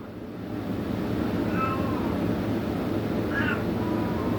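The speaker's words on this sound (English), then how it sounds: "And if you hear my cat meowing, she's in heat, and it's driving me crazy." A female cat in heat meows twice at moderate distance indoors over a steady low droning background hum, the two calls a couple of seconds apart.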